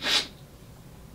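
A single sneeze brought on by allergies bursts out at the start, close and fairly loud, then fades into quiet room noise with no talking.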